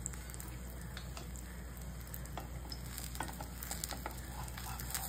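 An oats chilla fries in ghee on a nonstick pan, a steady soft sizzle with scattered light crackles and pops, fairly quiet and without speech.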